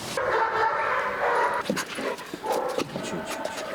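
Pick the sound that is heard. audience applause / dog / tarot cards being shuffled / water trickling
dog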